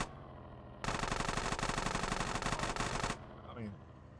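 Automatic gunfire from Grand Theft Auto San Andreas: one loud, sustained rapid-fire burst of about two and a half seconds that stops abruptly and leaves a faint, fading tail.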